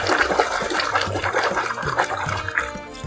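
Running water splashing over a muddy toy lioness as it is washed, a steady close splash and trickle with slight variations throughout.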